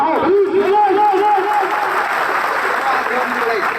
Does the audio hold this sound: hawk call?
no